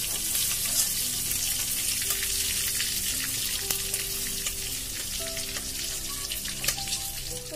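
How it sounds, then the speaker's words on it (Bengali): Prawns fry in oil in a home kitchen with a continuous close hiss and sizzle. Small clinks and faint tonal hums sound under it, and nobody speaks. "তো এইদিকে দেখো চিংড়ি মাছটা ভাজা হয়ে গেছে"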